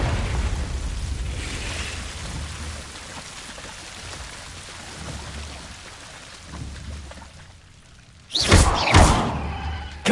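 The Confringo blasting spell in Hogwarts Legacy fires near the end, a sudden loud burst with a thudding impact after a quieter stretch of ambient noise.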